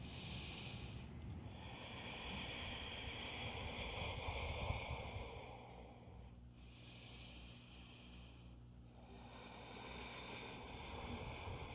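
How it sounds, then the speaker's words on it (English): Slow, audible breaths during a yoga pose in an intermediate vinyasa backbend class, long airy inhales and exhales separated by short pauses, close and soft over a steady low background hum. "Three breaths."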